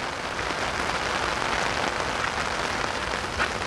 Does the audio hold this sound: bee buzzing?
no